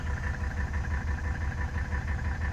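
A 1984 Mercedes-Benz 300D turbo diesel (W123) idles steadily with a low, even clatter and rhythmic throb, heard close and alone without any talk.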